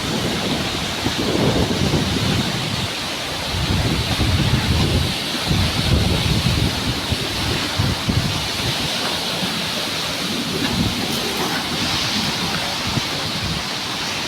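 Typhoon wind and heavy rain roar without pause, with loud gusts buffeting the microphone and a dense, rumbling wash of weather noise throughout.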